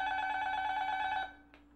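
An apartment intercom phone buzzes with a sustained electronic ring for over a second, then stops, followed by a brief click as the handset is handled.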